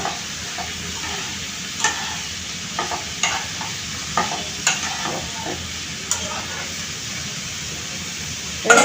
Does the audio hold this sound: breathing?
no